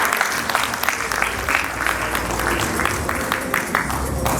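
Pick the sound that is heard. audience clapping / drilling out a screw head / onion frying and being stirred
audience clapping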